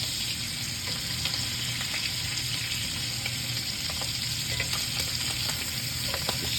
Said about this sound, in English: Just sear them all in there real good.